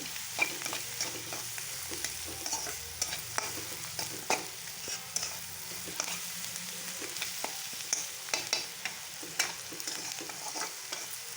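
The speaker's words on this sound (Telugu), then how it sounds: "బాగా వేపుకుందాం కొంచెం బ్రౌన్ కలర్లో వచ్చే వరకు వేపుకుందాం" Eggs fry with salt in a pan until browned, a steady close sizzle running throughout with frequent scraping stirs and light spoon clicks, no voices.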